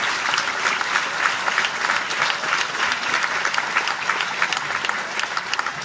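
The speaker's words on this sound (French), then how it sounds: "Donc, franchement, vous pouvez l'applaudir très très fort." An audience at a club's awards evening applauds a young member with brisk, sustained clapping that stays even and continuous throughout, with no voices on top.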